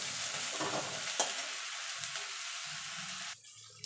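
Ginger-garlic paste and onion frying in a pan, a steady close sizzle with spoon scrapes and stirring clicks, the hiss dropping away near the end.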